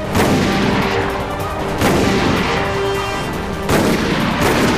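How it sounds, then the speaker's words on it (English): A grenade launcher in Resident Evil: Operation Raccoon City fires in heavy, loud booming blasts, about three big explosions over dense continuous gunfire and battle noise. "Grenade launcher."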